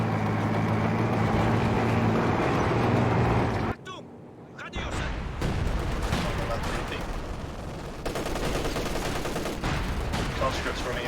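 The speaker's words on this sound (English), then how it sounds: "This is a Vet 4 MG34 over here." An MG34 machine gun rattles in a World War II strategy video game, with bursts of gunfire and explosions filling a dense battle soundscape; the din drops out briefly near the middle before resuming.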